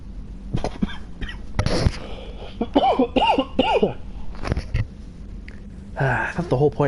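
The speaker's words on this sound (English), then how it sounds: "I thought the whole point of cough drops was to keep you from coughing" A man coughs several times in a cluster of short, sharp bursts while playing Mass Effect 2 after taking cough drops, with his own talk around the coughs.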